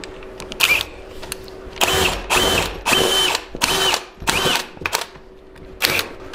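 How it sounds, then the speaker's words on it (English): Drill with an extension and a 3/4 inch bit boring a hole, in a series of loud, close bursts of grinding whine separated by short pauses. "I have a drill set up with a extension with a 3/4 inch drill bit"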